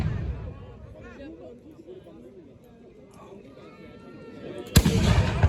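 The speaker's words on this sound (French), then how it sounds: "tir de mousqueterie de la part des grenadiers avec les Pandours qui rechargent." A musket volley from grenadiers at a reenactment of the 1793 assault on Arlon, Belgium, crashes out loudly near the end. Before it comes a long stretch of murmuring crowd and chatter.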